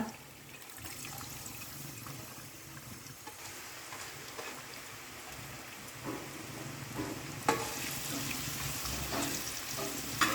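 Onion, garlic and chillies sauté in oil, a dense, even crackling fry like light rain, with occasional louder pops and faint scraping.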